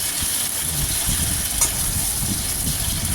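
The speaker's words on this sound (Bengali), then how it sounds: "বেশিক্ষণ ধরে ভাজবো না, জাস্ট হালকা একটু করে ভেজে নেব বেগুনগুলো।" Eggplant pieces frying in a pan, giving a steady dense sizzle and hiss that runs the whole time, loud and close, with faint stirring scrapes underneath.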